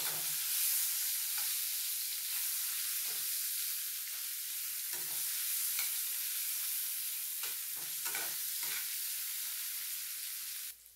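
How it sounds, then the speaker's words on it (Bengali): Two chopped onions fry in oil in a pan, giving a steady, close hiss of sizzling throughout with occasional spatters and stirring scrapes, and no one speaking. "ভালোভাবে পেঁয়াজটাকে ভেজে নিতে হবে।"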